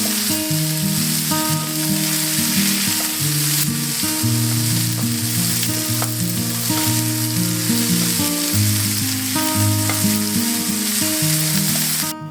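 Onion fries in a pan for a pork stir fry, giving a loud, unbroken sizzle that holds steady throughout, layered over continuous melodic background music.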